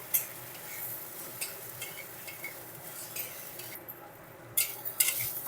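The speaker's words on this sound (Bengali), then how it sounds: "আদা রসুন কাঁচা লঙ্কা পেস্টটা পেঁয়াজের সাথে দু মিনিট নেড়ে নেব" Ginger, garlic and green chili paste is stirred with onions in a pan: quiet sizzling beneath intermittent scraping and clinking of a utensil against the pan, a few sharper knocks toward the end.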